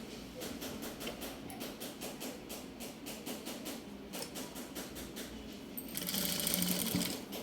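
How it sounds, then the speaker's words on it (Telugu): A sewing machine stitches frills onto a silk lehenga made from a pattu saree, running in a steady rapid rhythm with short pauses, then louder and busier for the last second or so. No one talks over it. "ఇప్పుడైతే ఫ్రిల్స్ పెడుతున్నాను చూడండి, ఫ్రిల్స్ ఎలా పెడతాము."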